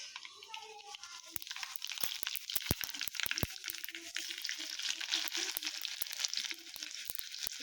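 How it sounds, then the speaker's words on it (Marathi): Garlic sizzling and frying in a hot pan, a steady close crackle with sharp pops scattered throughout, while a voice talks faintly underneath. "लसूण टाकते"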